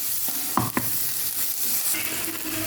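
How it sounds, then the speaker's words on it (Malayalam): Onions frying in a pan for Kerala-style ulli theeyal give a steady close sizzle, broken by a few sharp clinks and scrapes of stirring, with no voices. "ഉള്ളി നന്നായിട്ട് മൂത്ത് വന്നിട്ടുണ്ട്."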